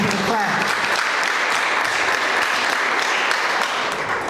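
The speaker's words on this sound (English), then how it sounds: "go ahead and clap it up" Dense, steady applause fills the room at a Black History Month leadership brunch, sustained at full strength throughout with a brief voice at the start.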